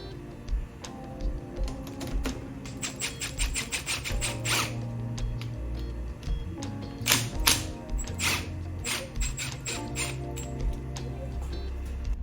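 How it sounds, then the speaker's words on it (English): A wrench or socket working loose the handlebar bolts on a Yamaha MT-07 motorcycle, with rapid bursts of ratcheting clicks in quick runs separated by brief pauses, close and clear over a faint steady hum. "Let's go ahead and undo these bolts."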